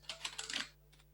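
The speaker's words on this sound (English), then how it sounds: "So that's why I'm typing urgent and in the subject." Rapid clicking of computer keyboard keys in a burst of typing, with a short pause and a couple of final keystrokes, fairly close and steady against a low background hum.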